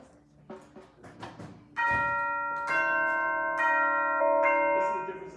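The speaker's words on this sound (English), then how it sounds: "Turn your hand sideways so you can hit the flat." Orchestral chimes in a high school wind ensemble rehearsal struck with the flat of the hand, a few bright ringing strikes that sustain and overlap, after some softer taps and a brief spoken moment at the start.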